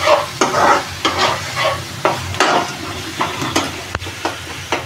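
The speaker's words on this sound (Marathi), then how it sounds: "चांगला कांदा शिजून दे." Onion fries in a pan for palak paneer, heard as a steady close sizzle with rhythmic scraping spoon strokes stirring it throughout.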